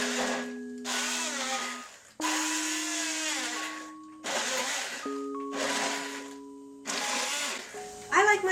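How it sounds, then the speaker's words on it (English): Stick blender puréeing slow-cooked crock pot vegetables in short bursts, a loud whirring motor that starts and stops several times, its pitch shifting as it works through the chunks. "Now you could run this through a blender, but I find the stick blender is so much better."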